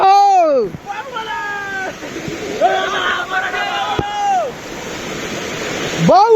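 A waterfall with low flow gives a steady rushing wash of water in the background, while people talk loudly and a voice chants over it.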